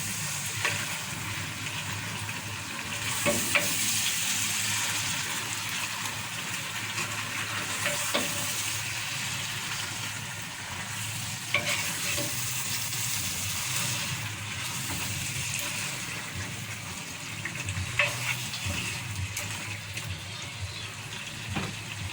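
Okra soup with shrimp cooks in a pot, giving a continuous sizzling bubble with occasional scrapes and knocks from stirring, steady and close with no talk.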